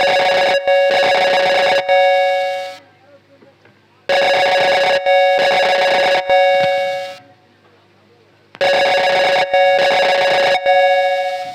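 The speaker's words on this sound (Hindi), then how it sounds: "ओके हो गया, घंटियां जाने लगी।" An outgoing phone call's ringback tone plays in a comedy skit, giving three loud, close, buzzy double-ring bursts separated by silent pauses.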